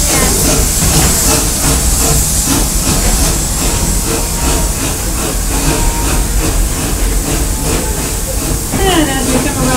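The Busch Gardens Tampa park train rolls along with a loud, continuous rush of rumble and hiss plus rhythmic clacking, while a voice talks over the noise.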